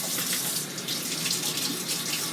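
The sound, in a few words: rinsing a personal blender cup under a running tap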